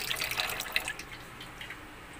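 Water running from a tap in a quiet indoor setting, a faint steady trickle with irregular splashes and drips, heard alone without speech.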